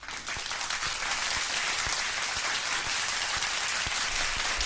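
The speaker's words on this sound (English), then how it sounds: "can we give a warm round of applause for Cody Durden?" A live studio audience breaks into warm applause for a guest, steady dense clapping close by that holds for several seconds without talk.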